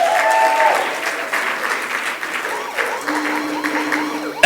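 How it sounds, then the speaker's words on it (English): Steady applause from a crowd at a gala awards dinner for an inclusion event, greeting a winner; dense clapping runs throughout, loud and near, with faint voices and music tones mixed underneath. "Let's give a round of applause."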